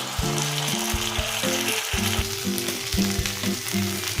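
Dry chilli chicken sizzles steadily in a pan as tomato sauce goes in, with a continuous hiss and repeated clattering knocks from stirring, close and loud, with no talking.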